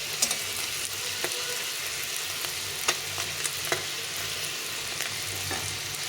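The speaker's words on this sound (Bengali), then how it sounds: "উল্টে পাল্টে ভেজে নিতে হবে দেখো মাছগুলো এভাবে ভাজলে একটু ভাঙে না" Small fish fry in a pan with a steady, soft sizzle, broken by occasional sharp clicks and pops from flipping and stirring.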